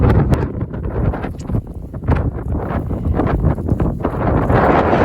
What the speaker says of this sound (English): with a very strong north wind